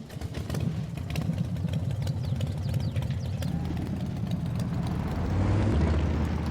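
A small motorbike engine runs with a steady rough putter and rising drone close by, growing slightly louder toward the end, with no talking over it.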